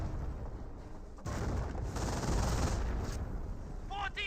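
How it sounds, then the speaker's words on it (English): A Nebelwerfer rocket barrage in the video game Company of Heroes, a loud rumbling wash of explosions and gunfire swelling midway, with a voice briefly heard over it. "Of course, Nebelwerfer barrage will hit everywhere."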